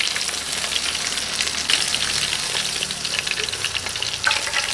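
Fish fries to golden brown in a pan for meunière, with a steady, dense sizzle and crackle that holds evenly throughout, close up and with no talking.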